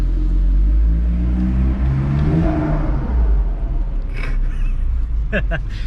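A VW GTI Edition 30 fitted with an APR exhaust revs loudly and close, a deep sustained engine roar that swells and eases across the stretch, with a few sharp higher bursts near the end and a voice talking over it.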